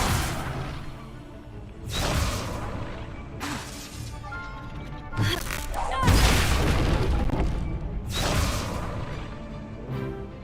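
Spell effects for Levioso and Accio cast in the video game Hogwarts Legacy, a series of loud booming whooshes and crashes recurring every couple of seconds over a continuous game soundtrack.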